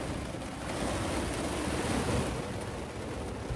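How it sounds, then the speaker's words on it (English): Heavy rain pours steadily onto a roof top tent mounted on a Range Rover parked on a muddy hillside, a dense continuous wash with slight swells, close and alone. "It's pouring rain."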